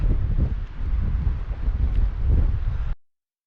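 Strong wind at a small lake in the Sawtooth Wilderness buffets the microphone in heavy low rumbling gusts for about three seconds, then cuts off abruptly.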